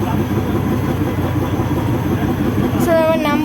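A passenger train on a North Bengal line to Darjeeling stands about to depart, a loud steady engine rumble and hum filling the scene, with a brief rising whine near the end.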